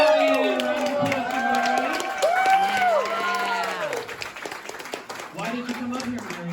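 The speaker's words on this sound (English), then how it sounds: "Round of applause" An audience at an anime convention claps and cheers from close by, a busy crowd roar with a lot of overlapping voices, calls and shouts running through it from start to finish.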